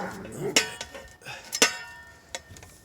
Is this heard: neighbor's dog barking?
yes